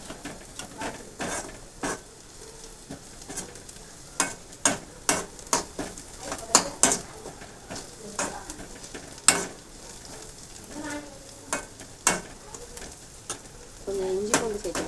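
Onions fry in a pan while a spatula stirs and scrapes them in repeated sharp clacks over a soft continuous sizzle, close by, with a voice talking now and then.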